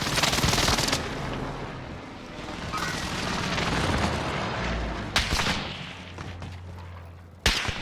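Automatic and single gunfire bursts from a Call of Duty Warzone match ring out almost continuously, with sharp loud cracks near the end and a low rumbling boom beneath.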